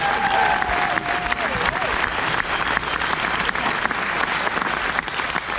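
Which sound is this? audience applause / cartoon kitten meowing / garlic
audience applause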